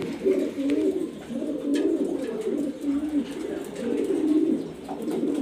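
Afsan, grizzle and racer pigeons in a loft cooing in repeated soft, throaty rolling calls that overlap closely, with someone talking softly in the background.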